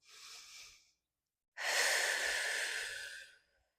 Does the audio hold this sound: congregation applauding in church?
no